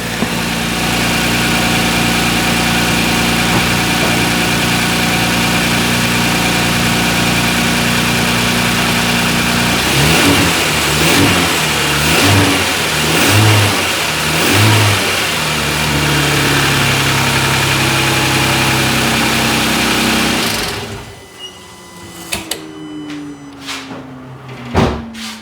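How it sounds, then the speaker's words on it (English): A Kia Stinger GTS with its 3.3-litre twin-turbo engine and HPS cold air intake idles steadily and loudly up close, then is blipped through a few short throttle rises before cutting off, leaving quieter scattered knocks and a faint hum. "I'll give it a little bit of gas so we can hear what it sounds like at a little bit higher RPM."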